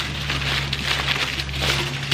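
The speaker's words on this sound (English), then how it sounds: "I do apologize for the noise of the foil ahead of time." Aluminium foil crinkling and crackling as it is pressed over the back of an upturned pan, a close, continuous rustle with a steady low hum underneath.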